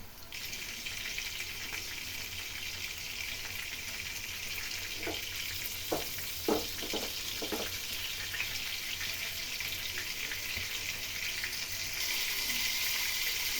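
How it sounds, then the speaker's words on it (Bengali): Pieces of rohu fish frying in oil in a pan, a steady moderate sizzle with a few brief clinks of a utensil partway through, and no voices. "মাছটি ভাজা"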